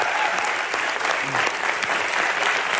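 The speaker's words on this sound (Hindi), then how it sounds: "जोरदार तालियां बनती हैं सर।" Studio audience on a Kapil Sharma comedy show breaks into loud, sustained applause, dense clapping filling the whole stretch with faint crowd murmur underneath.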